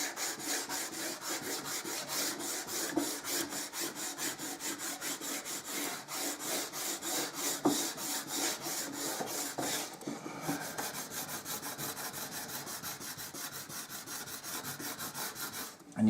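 Wood inlay being burnished by hand, a quiet close rubbing in quick regular back-and-forth strokes that continue steadily with a brief pause midway.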